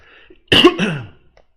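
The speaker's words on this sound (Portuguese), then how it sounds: "Desculpa mais uma vez, eu vou nem pedir mais desculpa da minha tosse" A single sharp, close cough bursts out of near silence and fades quickly.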